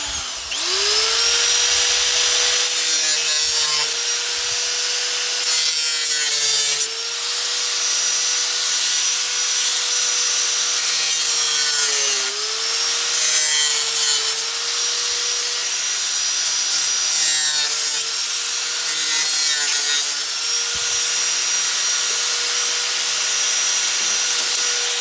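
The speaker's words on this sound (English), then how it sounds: "In this case, I'm going to use a grinder." Angle grinder slicing through a black plastic crate, a loud, continuous high-pitched whine lasting the whole stretch, dipping briefly as the blade bites and recovers, with no talking.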